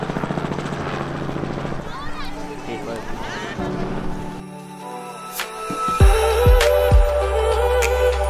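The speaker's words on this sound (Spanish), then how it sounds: "Ale pegó un vuelo en helicóptero" A helicopter flies over Ushuaia. Its loud rotor chop and turbine whine run throughout, rising and shifting as it moves, with people talking in the background.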